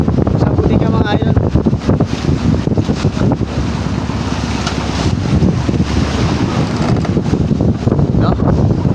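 Strong north wind buffets a boat at sea, steady and loud, with broadband gusting roar and water wash all the way through, and a voice occasionally speaking underneath.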